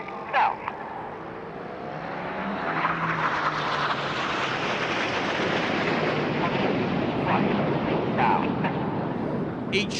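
Red Arrows jets flying in formation at an air display, a broad roaring jet noise that swells and holds loud overhead, with a few brief knocks near the start and end.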